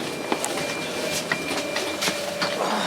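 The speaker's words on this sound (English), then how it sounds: "Train's here, and we're just looking out for carriage number 24." A CP regional train pulls into a platform in Coimbra, Portugal, with a steady rumble, clattering wheels and a faint high squeal. There is no talking.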